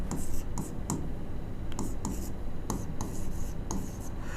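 Chalk or marker writing on a classroom board during a Class 12 electrochemistry lesson, with repeated scratchy strokes in short bursts under a steady room background; a faint voice murmurs now and then.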